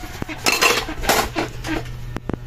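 Dishes washed by hand, pots and cutlery clinking and clattering close by in a quick run of sharp metallic knocks and rattles, with no talking.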